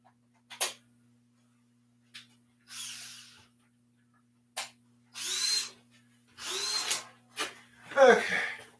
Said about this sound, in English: Drill would be nice.